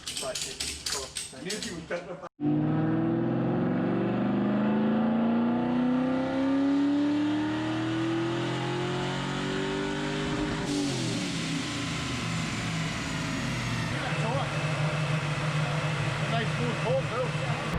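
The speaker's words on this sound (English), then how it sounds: "so that was the first pull on that. I think it's a 2002 Mustang" A 2002 Mustang engine makes a full-throttle pull on a chassis dyno, revving loudly with a rising harmonic whine before cutting off and settling toward idle, with a blow-off valve setup. The engine sound is close and continuous throughout.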